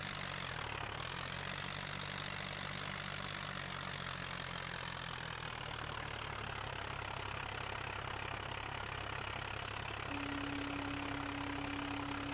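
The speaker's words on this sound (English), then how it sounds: "Go, little tractor, go!" Tractor engine in a farming video game runs steadily, a continuous low droning hum with a faint tonal whine joining near the end, alone without talk.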